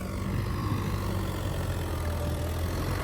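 A tractor engine drones at a steady, even pace, with a continuous low rumble heard nearby and nobody talking.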